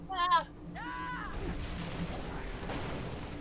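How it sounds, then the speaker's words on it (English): Fuel rod turret explosions in Halo: Master Chief Collection multiplayer, rough crackling blasts and rumbling impacts following two short tonal game sound cues, continuing as a dense, mid-volume barrage. "Ow, there's so much explosions!"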